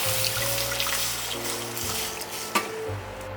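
Water poured into a ramen braising liquid of soy sauce, mirin and sake, a steady close trickle with a low background hum, and one brief knock partway through.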